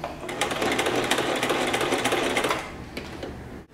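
A sewing machine stitches fabric in a steady, fast mechanical whir with rapid needle clatter, running close and continuous for over two seconds before slowing and stopping with a few final clicks.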